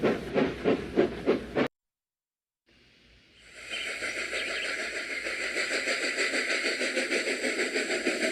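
Steam-style puffing engine sound for a diesel locomotive starting to move, with rhythmic chuffs, a sudden silence, then hissing that builds into a steady, pulsing engine chug.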